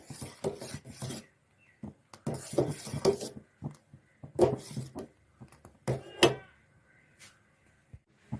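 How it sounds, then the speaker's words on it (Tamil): Milk being stirred in a pot on the stove while making homemade ice cream: repeated scraping, rasping strokes of a utensil against the pot, in irregular bursts with quiet gaps, close and fairly clear. "அப்படி 2 நிமிஷம் அப்படியே கலந்துட்டே இருங்க."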